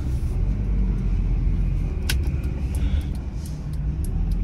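A car engine idles steadily just after starting, a low continuous rumble filling the whole stretch, with a brief click midway and a faint higher whine near the end.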